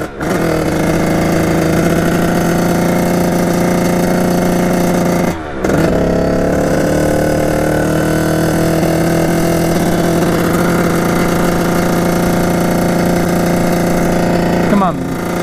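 A Kawasaki KX80 big bore dirt bike engine runs loud and close with a sputtering, bogging drone that climbs into higher revs, briefly dipping twice before picking up again.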